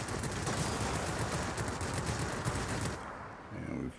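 Cannons on a La-15 jet fighter in a flight combat game fire a sustained rapid burst for about three seconds, then cut off, leaving quieter engine noise.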